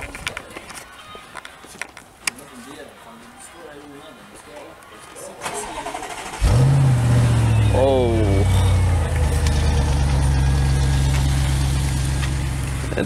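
A Mercedes-AMG GT R fires up with a loud bark, then settles into a deep, steady idle that holds close and strong to the end, after a stretch of quieter background noise and talk.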